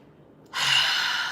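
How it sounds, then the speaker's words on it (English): A person breathing out through the mouth, a single soft, breathy exhale that starts abruptly after a brief quiet moment and holds steady, close and fairly faint. "here's me breathing out my mouth."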